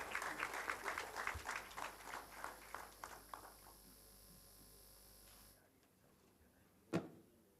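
An audience at a Rotary Club installation ceremony claps in a brief burst that quickly thins to a few scattered claps and dies away into quiet, followed by a single sharp thump.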